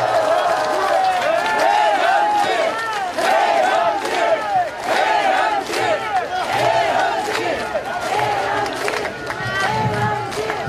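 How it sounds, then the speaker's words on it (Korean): An outdoor campaign rally crowd by Seokchon Lake in Songpa, Seoul cheers and chants in rising, wavering shouts, a loud, continuous mass of voices with bursts of noise throughout. "우리 송파울의 배현진 의원 힘찬 박수 부탁드립니다"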